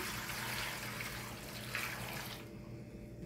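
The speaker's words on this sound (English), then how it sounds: "I will pour some water." Water is poured steadily into a cooking pot of coco-yams and bananas, a continuous rushing splash that stops abruptly near the end.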